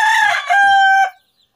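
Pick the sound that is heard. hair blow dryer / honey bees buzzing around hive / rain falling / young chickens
young chickens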